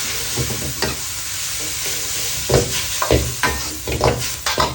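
Thai glass noodles, 80 grams, stir-fried in a hot wok with minced pork for a basil and bamboo-shoot stir-fry: a steady close sizzle broken by repeated scraping stir strokes that grow louder and busier toward the end.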